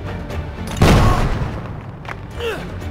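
A grenade goes off in the tactical game Jagged Alliance 3: one loud, deep boom with a rumbling tail, set against ongoing battle noise and game sounds, with no talk over it.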